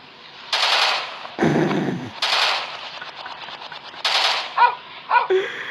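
Loud bursts of automatic gunfire ring out in an FPS video game, with a few long rattling volleys, a low thud and some short sharp shots.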